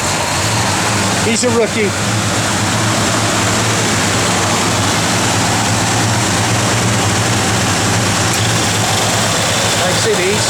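A 1971 Plymouth Road Runner engine idles steadily and loudly with a low rumble throughout, while someone talks over it.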